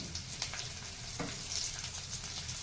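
Hot oil spluttering and crackling steadily in a pan as chopped garlic and cumin seeds fry for a puffed rice mixture, a dense continuous sizzle heard close up with no talking.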